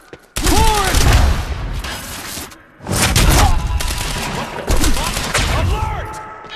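Heavy gunfire from a shootout in a garage at a research facility in Quantum Break, arriving in three long dense bursts separated by brief pauses, loud and close, with voices shouting in the mix.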